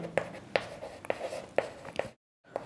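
Pen strokes on paper during a class 6 maths lesson, a handful of sharp, evenly spaced scratches close up, then a short silence and one more stroke.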